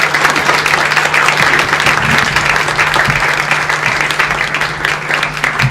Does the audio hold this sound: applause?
yes